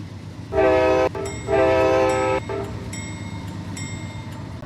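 A train approaches and sounds its horn in two long, loud blasts, followed by fainter, higher whistle tones as the rumble of the train continues underneath.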